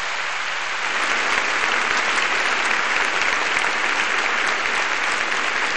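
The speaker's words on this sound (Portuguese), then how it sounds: "Você pode aplaudir o Senhor pela sua palavra?" A church congregation at a women's worship service claps together in sustained, dense applause that fills the room and holds steady from start to finish.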